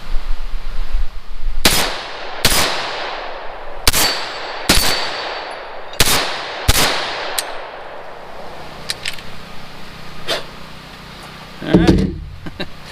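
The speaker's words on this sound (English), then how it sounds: "So let's take a few more shots with it and see what we get." Six loud, sharp gunshots from a Palmetto State Armory PSA 9 Shockwave pistol, fired at uneven intervals of about one second, each with a short echo tail, followed by quieter metallic clinks.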